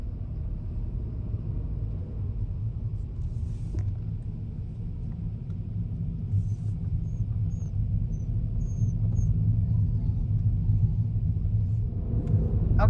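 A car driving along a sunny country road near Castelo de Rodao in Portugal, heard from inside as a steady low road rumble and engine drone that builds slightly louder toward the end, with no talking.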